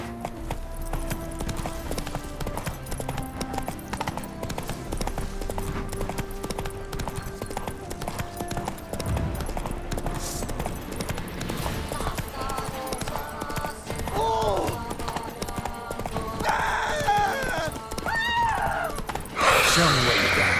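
Hoofbeats of the horse Roach in The Witcher 3, a steady galloping clip-clop running under game music and ambient effects, with a voice briefly heard.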